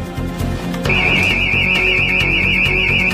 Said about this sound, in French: C'est le signal d'alarme.